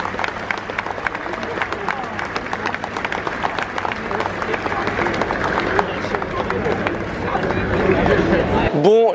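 Spectators at a Muay Thai fight in Rajadamnern Stadium, Bangkok, applaud amid steady crowd chatter and hubbub, a dense wash of claps and voices that stays loud throughout before cutting off abruptly at the end.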